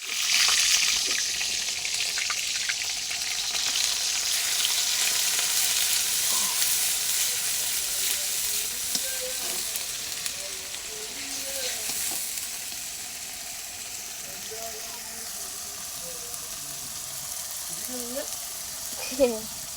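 A spice paste frying in mustard oil in a kadai hisses steadily and up close for a long stretch, with occasional stirring scrapes and light clinks, loudest at the start and easing off later.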